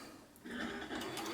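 Janome Combi serger trimming a fabric edge with its cutting blade, a soft, quick mechanical whir that picks up and runs steadily for about a second.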